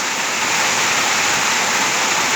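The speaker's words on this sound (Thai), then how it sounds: "วันนี้ฝนตกครับ" Rain falling in Ram Inthra, Bangkok, heard from inside a shop as a steady, dense hiss that fills the whole stretch without a break.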